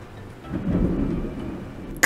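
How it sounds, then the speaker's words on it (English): Loud thunder rolls through a thunderstorm as a deep, sustained rumble that swells and holds, with a sharp crack right at the end and no voices. "the thunder was so loud it activated my mic"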